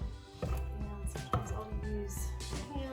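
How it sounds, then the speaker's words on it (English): A knife chopping cold meat on a chopping block, with a series of sharp, irregular thuds and cuts close by, the blows spaced unevenly over steady background room noise. "I'll just start chopping up"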